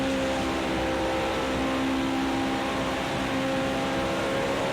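Steady race car engine drone from the Le Mans video game during a rainy, lightning-lit race, a continuous even roar with no clear revving, heard alone without talk.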